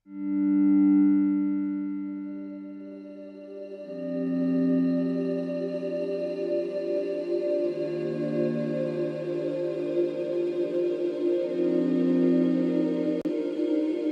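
A sustained synth pad shifts through held chords, its buzzy, robotic vocoder texture roughened by distortion, swelling and lingering without any other sound.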